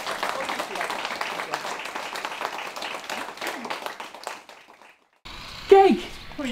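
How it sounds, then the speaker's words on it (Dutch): Applause from an audience at a Dutch royal honours ceremony, a dense steady clapping that fades out, followed by a brief pause and then people talking. "Ook voor jou een groot applaus."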